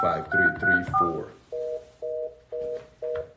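Telephone keypad dialing tones: a fast run of several tones followed by four evenly spaced, longer tones, clear and close, with a voice over the first tones.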